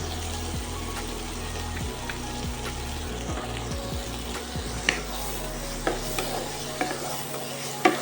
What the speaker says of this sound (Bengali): দিয়ে একটু হালকা ফ্রাই করে দেবো